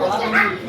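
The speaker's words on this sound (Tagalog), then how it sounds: "Look at the dogs." A dog's short yelping bark rises briefly over nearby chatter, with a couple of quick yips close to the listener.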